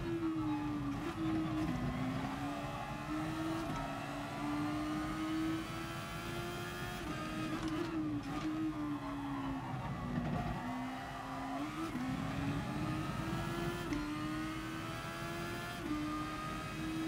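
Race car in Gran Turismo Sport, game version 1.39, engine droning loud and steady throughout with rising and falling pitch as it accelerates and shifts through gears, no talk.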